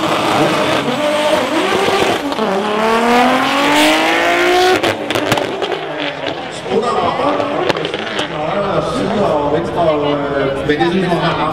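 A BMW 325 Turbo street-class car races in the right lane, its engine screaming through rising revs and gear changes, loud and close, while a commentator talks over it.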